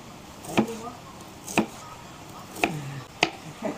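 A knife cuts thin slices of baby corn on a board, making four sharp, well-spaced chops close by against faint background noise.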